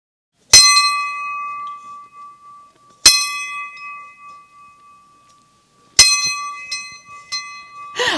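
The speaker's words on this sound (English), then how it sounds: "You want to hear the bell one last time?" Three loud, ringing strikes of a bell, evenly spaced a few seconds apart, each with a long, clear metallic tone that slowly fades.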